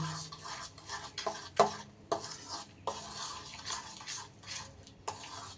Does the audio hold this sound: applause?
no